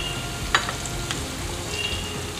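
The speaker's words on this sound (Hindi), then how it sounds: "थोड़े से डाल रहा हूँ मैं सफ़ेद तेल 1/4 हींग है और चॉप करे हुए मैंने कड़ी पत्ते लिए हैं।" Asafoetida and chopped curry leaves sizzling in hot white oil, a steady frying hiss with a few sharp pops and crackles, close and continuous.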